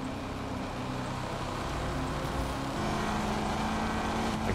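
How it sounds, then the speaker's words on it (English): Supercharged 950 hp C8 Corvette engine in the racing game The Crew 2 on a highway, a steady loud drone under road noise, holding throughout with a slight swell near the end. "I can hear that supercharger."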